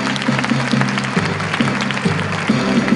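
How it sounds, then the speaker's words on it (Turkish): An audience at an awards ceremony claps in a dense, continuous wash of applause for about three seconds, with a faint low tonal hum underneath. "Bir daha alkışlayalım Sayın Bəzid Bey'i."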